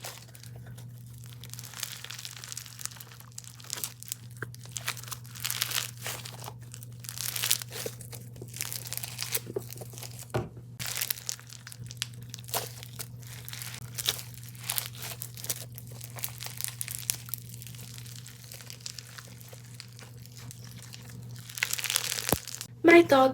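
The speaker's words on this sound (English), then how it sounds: "It's a crunchy slime." Close, crackly crunching and crinkling as crunchy slime is squeezed repeatedly in irregular bursts over a low steady hum.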